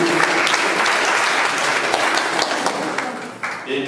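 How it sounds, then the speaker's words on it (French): A conference hall audience at a pesticides and health colloquium applauds, a dense and sustained wash of many hands clapping, fairly loud and even throughout. "Et comme la salle applaudit"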